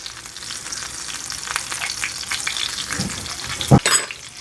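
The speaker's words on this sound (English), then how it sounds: "we're just gonna baste everything with them good flavors" Potatoes and chicken fry in a pan while being basted, giving a continuous close sizzle. A few sharper spatters and clinks come near the end, with no talking.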